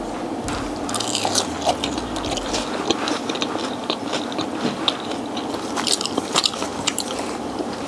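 Close, wet biting and chewing of Wingstop chicken wings in a mukbang, with crunchy bites and squishy chews repeating in quick irregular bursts throughout, no talking.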